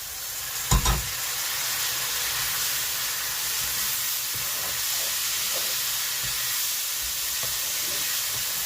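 Dal with okra fries in a pan with a steady, close hiss and sizzle, a sharp clatter of stirring near the start and lighter scraping strokes after.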